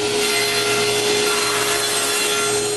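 Wooden drawer parts for a router cabinet being cut in a workshop: a steady, loud, continuous sawing and rubbing through the wood, with a sustained tonal hum running underneath and no speech.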